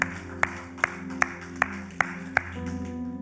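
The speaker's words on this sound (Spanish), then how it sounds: "dale un fuerte aplauso" A church congregation claps in unison, about seven sharp, evenly spaced claps in a steady beat over sustained music, then the clapping stops while the music carries on.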